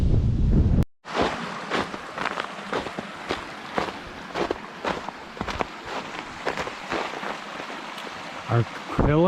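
Gusty wind blows along a forest trail on the Manistee River Trail loop in November, buffeting the microphone in loud, uneven surges, with footsteps crunching underneath throughout.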